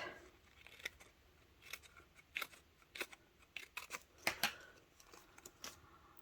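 Scissors snip out paper flowers in a craft class, a run of crisp, irregular cuts with light paper rustling, close and quiet, no voices.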